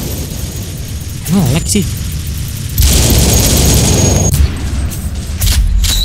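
Bomb explosions in an online shooter game, deep booming blasts with sustained rumbling and gunfire-like crackle, loud and close, while a player talks excitedly over them.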